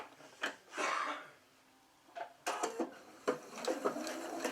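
Sewing machine stitching a teddy bear's arm seam close to the edge, heard in quiet bursts: a short whir, a longer run, then several choppy stop-start stretches with handling clicks.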